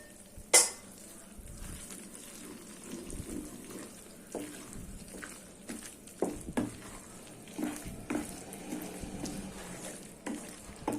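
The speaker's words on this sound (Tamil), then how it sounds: "எண்ணெய் அப்படியே கொஞ்சம் கொஞ்சமாக ஊற்றி மிக்ஸ் பண்ணிக்கிட்டே தான் வரேன்" Mysore pak batter is stirred in a pan while oil is poured in bit by bit, giving soft sizzling and frying with scraping stir strokes and a few clinks, faint and close, with no talking.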